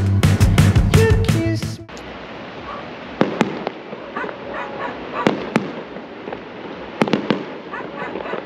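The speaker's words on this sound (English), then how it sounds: "We heard a rumour that this evening there's going to be some fireworks" Fireworks burst during an evening show in France, a dense run of loud, close bangs with a dog barking at first, then scattered sharp cracks and pops over a quieter crackling background.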